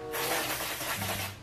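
A steady deodorant aerosol spray hisses for over a second, close and fairly loud, with no talking.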